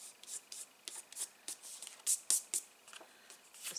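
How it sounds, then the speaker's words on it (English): A finger rubs adhesive residue off a handmade card: soft, quick, scratchy strokes in an uneven rhythm, close and quiet. "So again, rub the adhesive off. Just using your finger."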